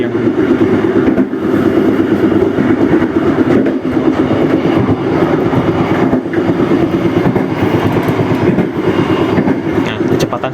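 Inside the Bengawan passenger train as it runs at speed, a loud, steady rumble of wheels and carriage noise carries a rhythmic clatter over the rails throughout.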